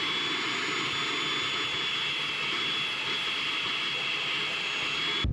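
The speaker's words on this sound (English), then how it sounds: "we're just wiping over the interior and giving it a really good vacuum because it's filthy" A vacuum cleaner running steadily inside a filthy car interior after weeks on dirt roads, a loud, continuous whooshing roar held without a break and no voices.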